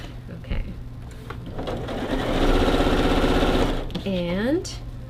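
A domestic sewing machine chain-pieces quilt blocks with a rapid, even needle chatter that rises and holds for a couple of seconds, then stops. A voice is heard briefly around it.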